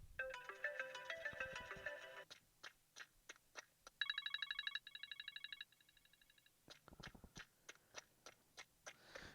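A custom iPhone ringtone called Jog on Gravel plays quietly, a series of crisp crunching taps like footsteps on gravel mixed with short buzzy electronic tones.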